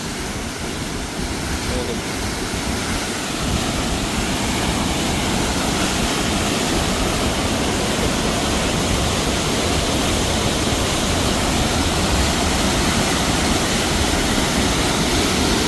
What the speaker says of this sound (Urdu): پانی کا شور اور کافی تیز ہوا بھی